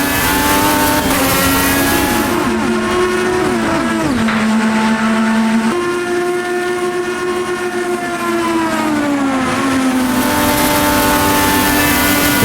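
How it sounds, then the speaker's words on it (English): An IndyCar race car engine in a racing video game screams loudly and continuously, its pitch climbing and dropping through gear changes and corners, alone with no talk. "Jack Harvey in the car in front, racing as Christian Lundgaard"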